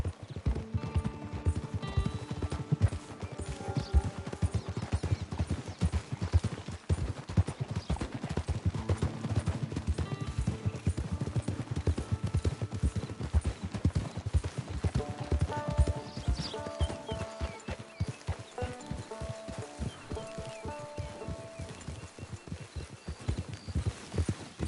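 Horse hooves clip-clop in a steady walking rhythm inside a video game, with a neigh or two along the way. The footfalls stay clear and close the whole time, with no talk over them.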